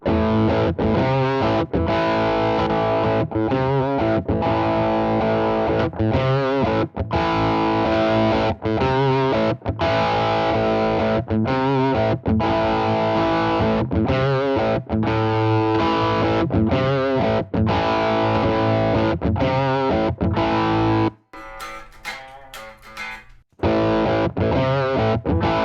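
Electric guitar played through a Klon Centaur overdrive pedal, a loud, warm distorted tone strummed in repeated chords with short gaps, then a brief scratchy muted passage near the end.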